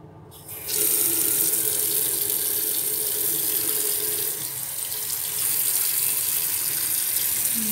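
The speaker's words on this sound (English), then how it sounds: "This is a sink!" Water running steadily from a sink tap, a loud continuous splashing hiss that starts abruptly after a brief quiet moment and keeps flowing without pause.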